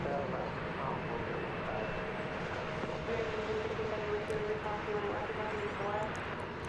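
Engine roar of an American Eagle E-Jet airliner at Dallas/Fort Worth airport, a steady broadband rumble with a sustained tonal whine, continuous and fairly loud throughout.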